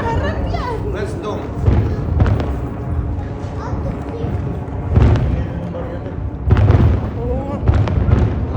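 New Year fireworks exploding over Dubai: repeated heavy booms and crackling bursts at irregular intervals, loud and nearby, with a crowd chattering and cheering throughout.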